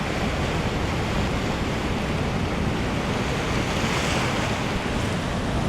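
Ocean surf breaking over a reef in the Maldives, a steady loud roar of crashing waves with wind buffeting the microphone throughout, no voices.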